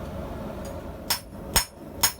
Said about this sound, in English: I often just grab a piece and hammer it this way and that way and see what the results are